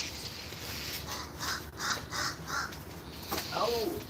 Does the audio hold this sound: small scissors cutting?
no